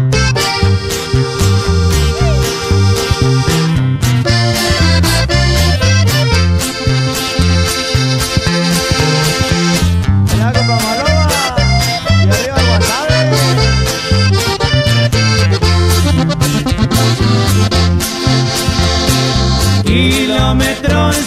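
Live norteño band performing a corrido, with accordion melody, bajo sexto strumming and a steady bass and drum beat, loud and continuous throughout with no talking.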